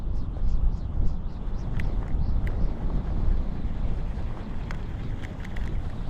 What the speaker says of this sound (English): That wind has really picked up. It's pumping now.